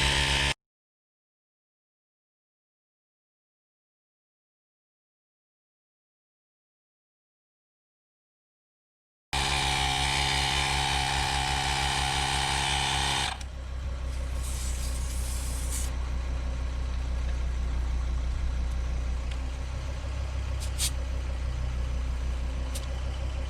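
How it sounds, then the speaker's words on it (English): A portable tyre inflator pumping up a flat car tyre, giving a steady loud mechanical drone that starts after a long silence, then settles into a slightly quieter continuous hum. "It can pump a pretty flat tyre."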